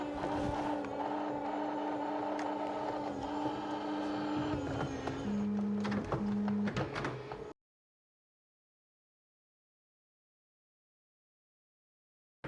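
Bambu 3D printer printing a filament spool part, a steady whirring and buzzing of stepper motors with shifting tones for several seconds, then abrupt silence.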